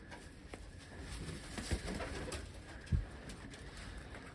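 Pet pigeons of the mewka and ogonek breeds coo softly in a loft, low murmuring calls amid light rustling and a couple of brief knocks, with no talking.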